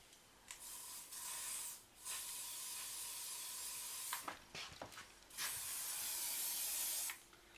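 Hairspray hisses from an aerosol can onto a 3D figure in several bursts of a second or two each, with a few short puffs in between, close and fairly quiet with no speech.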